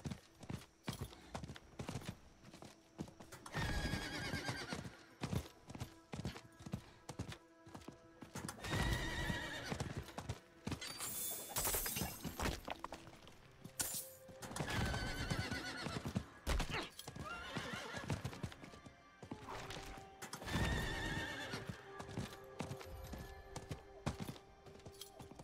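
Horse hooves clip-clop at a steady gallop in Diablo 4, with repeated neighs and whinnies over a busy game soundscape, loud and continuous across the whole stretch with no talk.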